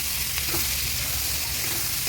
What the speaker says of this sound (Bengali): তার জন্য আমি পেঁয়াজ লঙ্কাগুলো দিয়ে দিলাম, যাতে দুটো একসাথেই ভাজা হয়ে যায়।